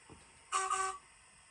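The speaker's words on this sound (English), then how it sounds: "Function 3 is a double toot." Two quick toots of an EFE 1938 stock model train horn from an ESU LokSound V5 sound decoder in close succession, short and bright against a quiet background.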